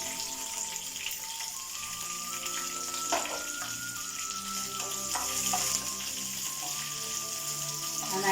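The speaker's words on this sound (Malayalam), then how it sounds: "കറിവേപ്പില ഫ്രൈ ആയി, പൊട്ടുകടല ഒന്ന് ഫ്രൈ ആവട്ടെ, വെളുത്തുള്ളി ഫ്രൈ ആവട്ടെ." Roasted chickpeas, curry leaves, garlic and ginger frying in a pan, a continuous dense sizzle with occasional stirring taps, close and steady with no voices.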